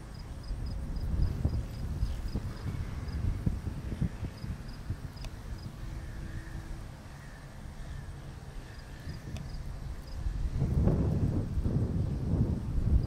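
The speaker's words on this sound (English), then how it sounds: "Wind's really kicked up again." Outdoor wind buffeting a microphone, a steady low rumble with stronger gusts toward the end, faint and continuous with no voices.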